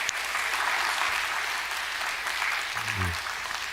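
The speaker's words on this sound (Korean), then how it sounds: "우리 큰 박수로 하나님께 영광을 드리겠습니다" A church congregation applauds during a Sunday service, a steady, moderately loud wash of clapping, with a brief voice rising beneath it near the end.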